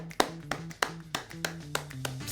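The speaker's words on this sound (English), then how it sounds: "to clap with me right now" Sharp hand claps ring out one by one at an uneven pace, close and fairly loud, over a faint sustained musical tone.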